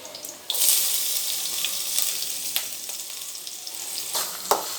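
Green chillies and onions fry in a pan for veg Manchurian, a loud sudden sizzle starting after a brief quiet moment and continuing steadily with occasional stirring clinks, no talking.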